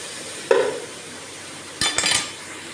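Sliced onions sautéing in a pan for chicken curry, a steady soft sizzle with two brief stirring scrapes and clinks, close up and no talking.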